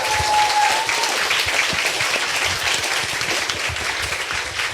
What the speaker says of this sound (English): Can we thank our speakers once again for...